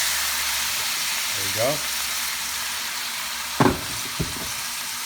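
Meat for Bicol Express fries in a pan with a steady, loud, hissing sizzle throughout, broken by a couple of short clanks from a utensil, while a voice speaks briefly.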